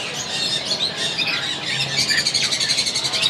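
A cross-breed breeding bird at a bird market in Saddar calls from mobile phone playback in a string of bright chirps and squeaky whistles that quicken into a rapid, rhythmic trill toward the end.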